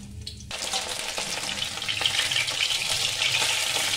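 Mushroom pieces fry in a pan with a steady, close sizzle that starts abruptly and then holds as a dense, even crackle, with no talking.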